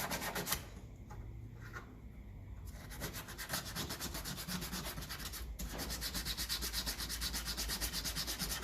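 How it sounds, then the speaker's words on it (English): Sandpaper is rubbed in quick repeated strokes along the edge of a throttle valve from a 1954 Ferguson 20 TEF diesel tractor, a close, steady rasping rhythm throughout. "no harm just to get your sandpaper at the edge there"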